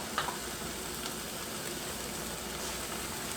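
Green celery parts sizzle in melted butter in a pan, a steady, even hiss of frying that holds at a soft, constant level throughout without any talk.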